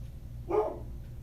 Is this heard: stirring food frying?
no